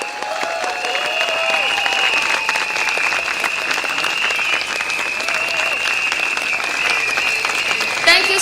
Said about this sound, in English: Please give a big round of applause to all our speakers tonight on stage